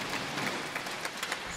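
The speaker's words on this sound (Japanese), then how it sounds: "両選手に大きな拍手が送られました" Crowd in the Ota City General Gymnasium arena applauding both table tennis players at a T.League match, steady distant clapping spread evenly through, fairly faint.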